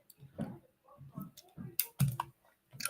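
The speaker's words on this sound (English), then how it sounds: "I'll use my scissors to cut." Several quick, crisp snips of scissors cutting through soft clay, irregularly spaced with short pauses between them.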